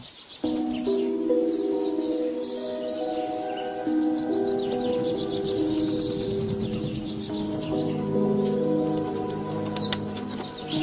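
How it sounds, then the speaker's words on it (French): Birds sing and chirp near a house, overlapping tonal calls and warbles running continuously at moderate level, with a few sharper chirps standing out and no voices. "Un jour qu'il enregistrait des chants d'oiseaux près de sa maison"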